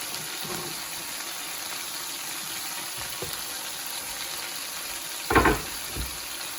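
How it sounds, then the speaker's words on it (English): Carrots and celery sautéing in a pan for chicken pot pie, a steady close sizzle with a few stirring scrapes and one louder clatter of the utensil near the end. "whenever I saute carrots and celery, because they're so dense, they're going to want to burn"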